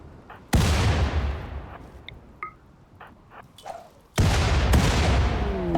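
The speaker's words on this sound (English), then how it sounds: "Isokinetics having a fun time just throwing grenades at the cougar." Frag grenades explode near a hunted cougar in the RimWorld video game, two loud, booming blasts a few seconds apart, each with a long decaying rumble, separated by small clicks and squishy game sounds.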